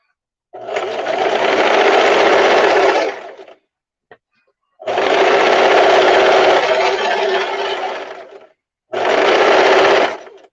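A sewing machine runs a gathering stitch along a skirt in three steady bursts, each a few seconds long, with short pauses and a brief click between them.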